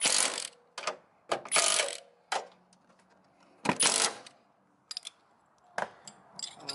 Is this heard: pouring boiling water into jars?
no